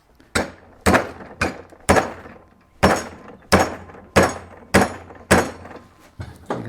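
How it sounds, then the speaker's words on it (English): A rubber hammer strikes a metal camera mount to bend it, about ten sharp, close, loud thuds at a steady pace, each with a short ringing decay, with no talking. "I just sort of hit on the bottom in here with the rubber hammer"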